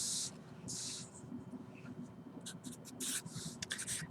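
A marker squeaks and scratches across a board as an equation is written out during a college maths lecture, giving bursts of short strokes and a few longer swipes.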